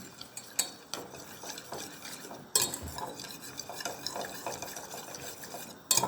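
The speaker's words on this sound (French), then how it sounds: "Et on remue le tout ensemble." A spoon stirs ingredients together in a dish, giving a steady scraping and clinking with a few sharper knocks against the container, close and alone without talk.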